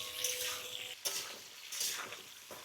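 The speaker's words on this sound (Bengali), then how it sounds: "এবার আলু পটল একসাথে ভেজে নেব।" Potatoes and pointed gourd fry together in a wok with a little oil, a faint steady sizzle broken by scraping and stirring sounds from a utensil against the pan.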